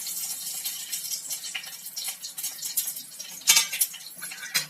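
Bay leaf, cinnamon, cardamom, fennel and cloves crackle in hot oil for a vegetable kurma: light, scattered pops and sputters close by, with sharper bursts toward the end.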